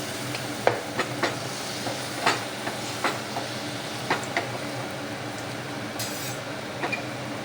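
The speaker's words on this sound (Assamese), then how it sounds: "মই ৰিফাইন তেলত ভাজিছোঁ, মিঠাতেলতো ভাজিব পাৰি।" Kol pitha fries in refined oil with a low, continuous bubbling sizzle punctuated by a series of sharp clicks and taps of a utensil against the pan, close and unaccompanied by speech.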